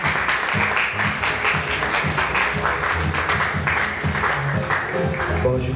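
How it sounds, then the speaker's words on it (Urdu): Audience at an Urdu-language church service applauding enthusiastically to welcome the pastor, a dense, sustained wash of many hands clapping at close range, steady throughout. "زوردار تالیاں بجائیے خداوند کے خادم کے لیے اور خداوند کے کلام کے لیے"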